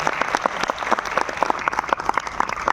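An audience in the Gadge Baba auditorium of the Uttar Pradesh Sangeet Natak Academy claps along at a ceremony, crisp, close handclaps in an uneven, lively patter that continues without pause.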